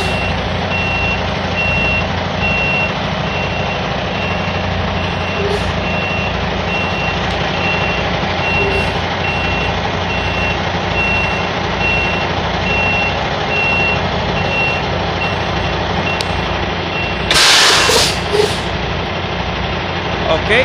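A tractor truck backing up to a trailer sounds a steady series of evenly spaced reversing beeps over its idling engine, loud and close throughout, with a brief burst of hissing air near the end.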